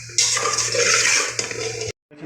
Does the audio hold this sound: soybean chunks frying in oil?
yes